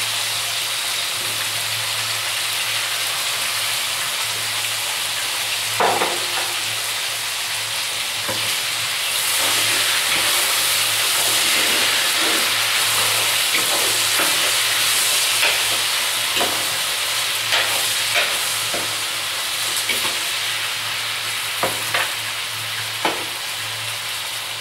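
Peppers fry in a pan with garlic and onion, giving a steady, close sizzle with occasional pops and stirring scrapes throughout.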